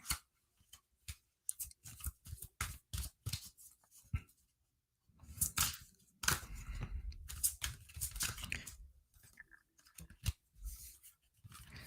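Tarot cards shuffled by hand during a tarot reading, a run of quick crisp riffling and flicking bursts that build into denser, louder shuffling, close and dry with no talking.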